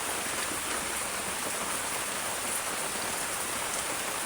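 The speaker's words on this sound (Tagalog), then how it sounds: "Dahil malakas ang ulan." Heavy rain pours steadily, a dense unbroken hiss of drops drumming on surfaces close by, with no voices.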